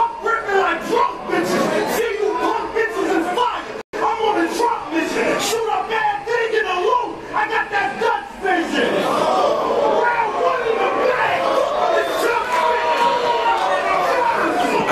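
Packed house at a battle rap event, a dense, steady crowd chatter with scattered shouts and yells filling the room throughout, close and loud, with voices overlapping.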